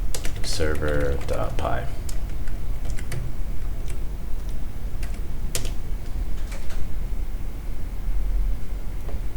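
Code is typed on a computer keyboard in a rapid, uneven clatter of close key presses, with a person speaking briefly near the start.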